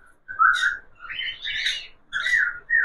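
A nearby cockatiel gives a series of loud, whistled chirps in separate bursts with short pauses between them.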